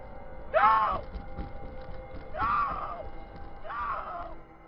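A truck driver lets out shrill screams of surprise while swerving to avoid another truck, three rising, strained vocal bursts spaced about two seconds apart over a low rumbling cab background.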